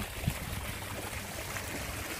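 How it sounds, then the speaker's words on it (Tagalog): Water sprays steadily from an outdoor fountain at an eco-museum in Taoyuan, Taiwan, a continuous rushing hiss heard alone at moderate level with one faint knock near the start. "Biglang bumuga yung tubig."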